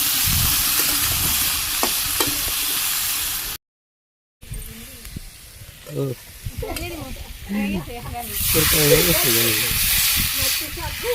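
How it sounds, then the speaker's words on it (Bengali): Green chili, onion, salt, turmeric and chili powder sauté in a pan over a rooftop clay stove, a steady loud sizzle and hiss running throughout, briefly cut out, with people talking over it. "কাঁচামরিচ দিয়ে দিলাম, একটু কাঁচা পেঁয়াজ, লবণ, হলুদের গুঁড়ে, শুকনো মরিচের গুঁড়ে, ভালোভাবে কষিয়ে নিই।"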